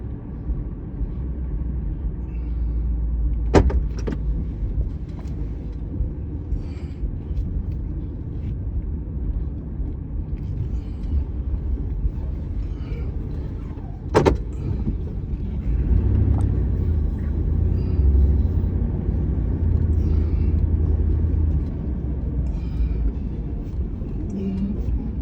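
Cars rolling out of a local car show, heard as a continuous low engine rumble from inside a moving vehicle, with a couple of sharp knocks and a swell in the rumble partway through.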